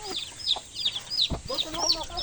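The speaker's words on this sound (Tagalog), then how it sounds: "dami ng manok" Several chickens cluck and squawk in short bursts, fairly close, with a scattering of softer background noises between the calls.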